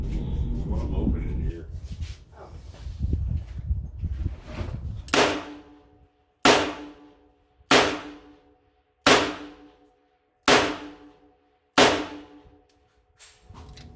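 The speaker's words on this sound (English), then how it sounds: "here we have the first 6 shots, double action out of this" Six sharp double-action shots from a Smith & Wesson K Frame .38 Special revolver ring out at an even pace after some handling noise, each crack loud and close with a short decaying tail.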